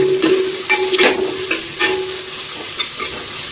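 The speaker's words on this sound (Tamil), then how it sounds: "வெங்காயம் உப்பு போட்டு நல்லா நம்ம ஃப்ரை பண்ணிப்போம்" Onions frying with salt in a pan, sizzling under repeated scraping strokes of a spoon, several quick stirring bursts over a few seconds, close and fairly loud with no talk.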